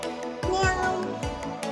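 A 15-month-old girl imitates a cat's meow in short, high, wavering vocal bursts, several quick meow-like calls in succession, close and clear.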